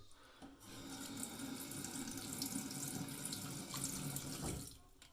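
Water running from a tap to rinse shaving lather off a pair of glasses: a steady, close rushing stream with splashing against the lenses, starting and stopping abruptly, with no voices.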